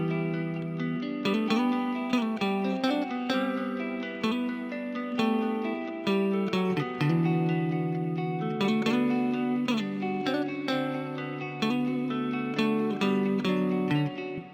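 A mellow preset guitar top line from Arcade's Chopped plays together with a main guitar in a clean, plucked, repeating melodic loop with steady rhythm and no voices.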